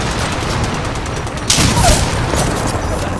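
Gunfire in the Apex Legends battle royale game, heard as rapid, continuous shots. A louder, sharper burst comes in halfway through and keeps going to the end.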